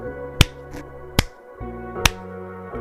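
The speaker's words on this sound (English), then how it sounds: "Then the eldest princess clapped her hands 3 times" Three sharp claps ring out alone, spaced roughly evenly apart over a soft sustained musical background, each a crisp, bright, close impact.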